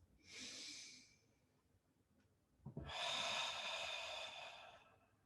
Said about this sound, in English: take a deep breath. And another deep breath.